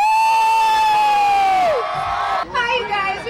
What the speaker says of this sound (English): as you can see, the crowd is going crazy